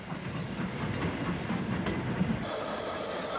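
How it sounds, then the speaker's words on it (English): A WD 2-8-0 steam locomotive passes with a loaded coal train, a steady broadband rumble and rail clatter close by, shifting in tone near the end as the wagons roll past. "90492, a WD 280, passes on a loaded coal train."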